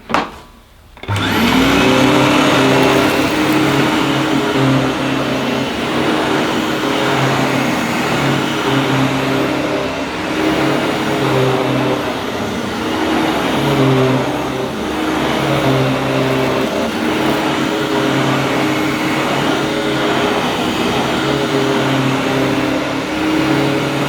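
A Hoover Vortex Evo Pet upright vacuum cleaner switches on after a brief click and runs loudly across carpet, its motor a steady whining roar with slight swells as it is pushed back and forth.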